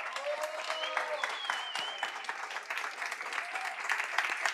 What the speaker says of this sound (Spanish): Pido que le den un fuerte aplauso al invitado.